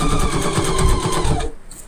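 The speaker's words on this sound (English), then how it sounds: "So this time I will make sure that I backstitch or back tack." A sewing machine runs in a fast, even mechanical rattle while backstitching, then cuts off abruptly near the end, leaving quiet room noise.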